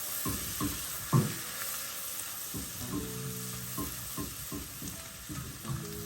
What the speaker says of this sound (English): Going with some fresh minced garlic. And go ahead and let that sweat.